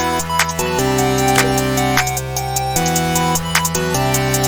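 A programmed hi-hat ticks in a steady repeating pattern over low synth chords and bass in a dark electronic beat, close and upfront with no talking.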